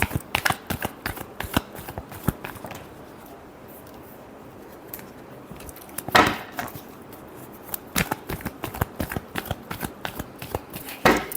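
Tarot cards are shuffled close up in quick riffling runs of sharp clicks and snaps, pausing briefly midway before resuming.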